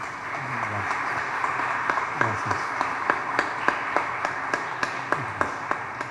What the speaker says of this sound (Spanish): Para él un fuerte aplauso